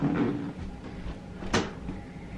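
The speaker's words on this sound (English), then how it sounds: "I'm gonna close my door." A door in a room swings shut with a single sharp knock about two-thirds of the way through, over a low, steady background hum.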